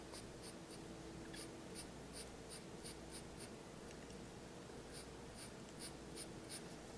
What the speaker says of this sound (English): On the back side of the ear, I use my charcoal pencil.